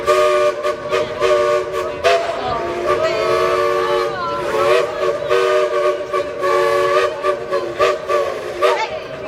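A loud steam train whistle plays a series of sustained, wavering tones, like a tune, with short breaks between blasts.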